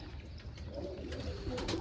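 Racing pigeons coo softly in a brief low, throaty burble, close by and alone, with no talk.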